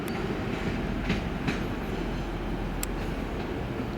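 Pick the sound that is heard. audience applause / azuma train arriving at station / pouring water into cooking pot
azuma train arriving at station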